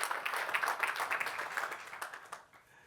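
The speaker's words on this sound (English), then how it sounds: "round of applause, please." Conference audience applause rising in a burst of clapping after a presenter calls for it on stage, steady through most of the stretch before thinning out and fading at the end.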